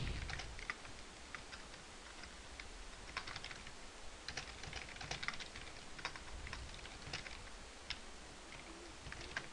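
Close, quiet keystrokes on a computer keyboard as Java code is typed, a steady patter of light clicks in irregular bursts with short pauses between them.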